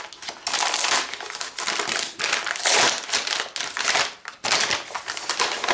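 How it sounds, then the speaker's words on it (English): A blade slices and rips tape off a cardboard gun shipping box, producing close, loud bursts of crackling, tearing and crinkling packaging noise in irregular strokes with short pauses between them. "a little more cautious in cutting the tape off"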